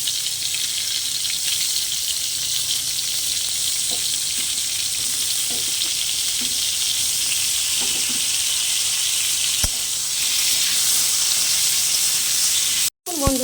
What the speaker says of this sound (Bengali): এই তেলের মধ্যে আমি পটলগুলো ভেজে নেব।